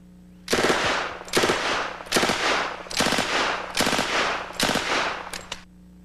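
A 1921 .45 ACP submachine gun of the classic gangster-film kind fires six long automatic bursts separated by short pauses, loud and close, with no voices.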